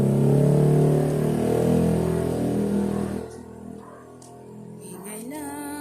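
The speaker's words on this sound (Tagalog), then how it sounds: "Ayun, nag-ingay na ang motor." A motorcycle engine runs loud and steady near a home garden for about three seconds, then drops away, leaving a quieter outdoor background with a few faint chirps.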